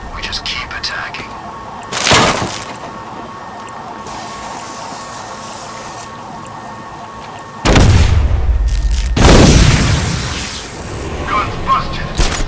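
Guns bursting apart in explosive blasts in the video game Batman Arkham Knight, two loud, noisy bursts with the second longer and rumbling, set against a steady game background with faint voices.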